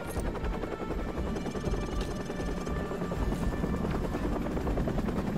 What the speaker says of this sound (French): Attention, des hélicos ennemis approchent au nord-ouest et au sud-est.